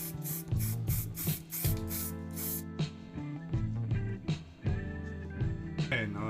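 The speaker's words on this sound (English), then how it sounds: "I use just ordinary spray paint" Several quick hissing bursts from an ordinary spray paint can coating a homemade diving weight, in a rapid rhythm, then the hiss stops and softer tonal background sound continues.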